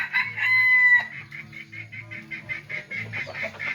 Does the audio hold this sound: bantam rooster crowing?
yes